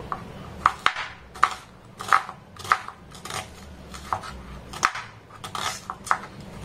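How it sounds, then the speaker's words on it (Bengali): Knife slicing onions into thin strips for a crispy gram-flour onion snack, giving a run of about a dozen crisp cutting taps on a board at an uneven, steady pace, close and fairly quiet, with no talking. "তারপর পেঁয়াজগুলোকে আমি টুকরো টুকরো করে কেটে নেব।"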